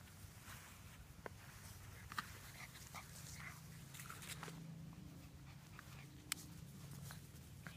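Several weeks-old British Labrador puppies whimper and yip faintly, with short, scattered high squeaks over a low background rustle and soft shuffling steps.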